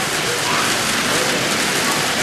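Heavy rain falling outdoors at a soup kitchen opening, a dense, loud, steady hiss of drops pattering on surfaces with no pauses, with no one talking.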